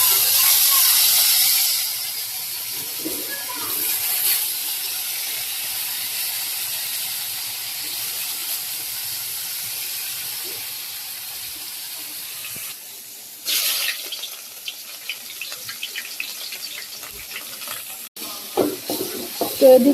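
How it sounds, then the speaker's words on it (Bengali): Fish fries in a pan at close range, hissing and sizzling loudly at first. The sound then thins into a quieter, steady fizz, broken later by scraping and stirring clatter near the end. "তো এই পাশেটায় মাছ ভাজা বসাই দিছি, আর এই পাশে বসাই দিব তরকারি।"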